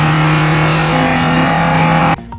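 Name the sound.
Foxbody Mustang turbo engine revving, throttle opened quickly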